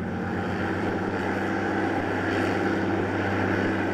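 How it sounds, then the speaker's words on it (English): A large Coast Guard hovercraft riding on an air cushion moves across the ice of the St. Lawrence River, its engines and propellers giving off a loud, continuous, steady drone with no voices. "It's a vehicle riding on cushions of air that can sail at over 50 knots."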